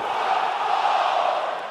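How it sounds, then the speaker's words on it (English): Arena crowd in WWE 2K20 cheering and roaring steadily, a loud, dense wash of voices that holds level throughout with no break. "it sounds to me like the crowd is more than ready for this one"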